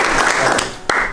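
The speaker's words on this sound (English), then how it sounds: "3 claps" An audience claps three times in quick unison, short sharp bursts close together within about a second, loud and near.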